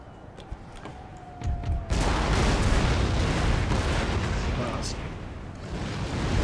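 Empire Total War artillery cannons firing round shot, a sudden heavy booming burst followed by a sustained rumbling roar of gunfire and explosions, loud and dense throughout.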